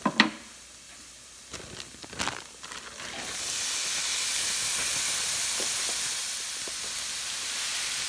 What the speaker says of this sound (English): We are going to add our spinach to the sauté onion, like that.